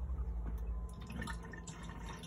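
Water swirls and trickles inside a motorhome toilet cassette after a flush, a steady, fairly quiet churning wash with a low rumble beneath it and no voices.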